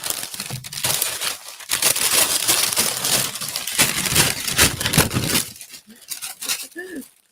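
A sheet of paper is crumpled loudly and close by, giving several seconds of continuous crackling and crinkling bursts, followed by a brief voice near the end.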